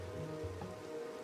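Steady rain falling in the Everholm video game, a continuous soft patter and hiss of drops on surfaces with no breaks over the short stretch.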